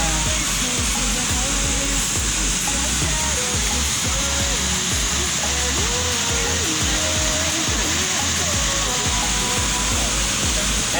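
A waterfall at the TBS Bom Sucesso club pours with a loud, unbroken hiss, while people's voices come and go faintly beneath the water.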